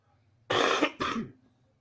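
Two quick, harsh coughs in a row, close and fairly loud, with a short pause between them.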